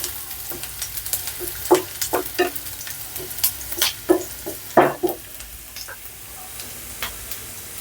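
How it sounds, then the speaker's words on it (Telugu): About twenty chopped garlic cloves fry in hot oil, a continuous sizzle broken by frequent sharp spatula scrapes and taps against the pan, close and clear, with no talking. "ఫస్ట్ ఈ వెల్లుల్లినంతా బ్రౌన్ కలర్లో వేయించుకుందాం"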